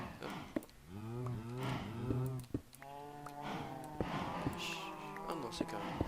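Blocky cows in Minecraft moo repeatedly, several drawn-out overlapping calls one after another, fairly soft, with clicking game sounds between them and no talking.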